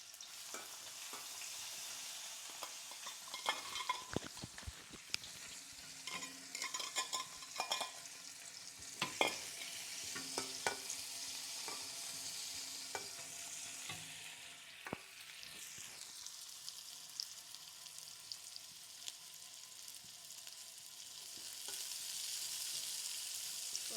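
Chopped onions sauté in hot oil with fennel and fenugreek seeds for an okra gravy, giving a soft, continuous sizzle with scattered scrapes and taps of a spatula stirring the pan.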